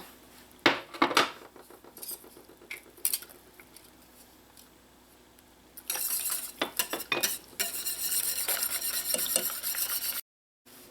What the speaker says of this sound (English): you're going to whisk that in so that it dissolves